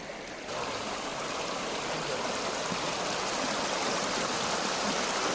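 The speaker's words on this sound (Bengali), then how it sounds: "দেখেছো কি সুন্দর বইছে নদীটা" A river flows with a continuous broadband rushing, steady and fairly loud throughout, with no voices.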